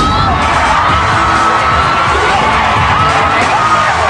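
A game show's live studio audience cheers, whoops and shouts in a loud, continuous roar that fills the whole stretch.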